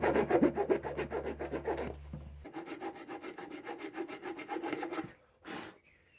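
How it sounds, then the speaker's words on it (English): Sanding a part flat on a Volvo 240 gives a repeated rough rasping scrape in quick back-and-forth strokes, close and fairly loud, pausing briefly before a final short stroke. "We'll sand this down now, flat, get it as flat as possible"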